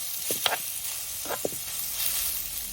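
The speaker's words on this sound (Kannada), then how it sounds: "ಈ ಮೀನ ಉಂಟಲ್ಲ ಈ ಎಣ್ಣೆಯಲ್ಲೇ ಫ್ರೈ ಮಾಡಬೇಕು" Dry fish frying in oil gives a steady soft sizzle throughout, with a few faint stirring clicks and scrapes near the start and middle, close and fairly quiet, with no talking.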